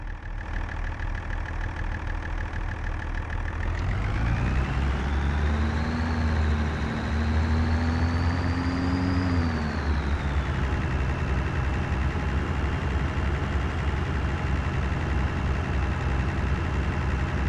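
A tractor engine in the Farming Simulator 2025 video game idles with a steady mid-pitched rumble, revs up in a rising whine for several seconds, then settles back to a continuous drone with no speech.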